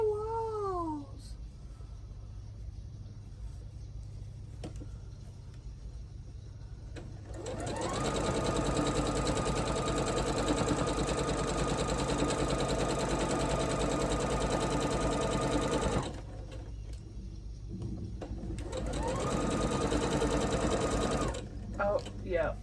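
A home sewing machine stitches quilt blocks for a floral block-of-the-month project, starting after several seconds of quiet and running steadily and loudly, pausing briefly, then running again with a faint voice in the background.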